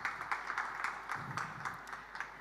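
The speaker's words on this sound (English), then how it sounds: "A round of applause for them" Faint, sparse applause from the audience at a panel discussion with fiction writers, a thin scattering of separate claps spaced unevenly over a quiet room.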